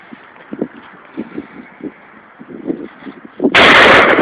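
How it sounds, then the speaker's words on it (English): A Smith & Wesson 500 Magnum revolver loaded with 350-grain Hornady rounds fires a single very loud, close blast near the end, after several seconds of low wind buffeting and soft handling thumps outdoors. "500 Magnum, first time I ever shot it. 350 grain Hornady rounds."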